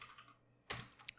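Typing pip install commands on a computer keyboard: a quiet patter of key taps, then a short louder burst of clicks near the end, close and isolated.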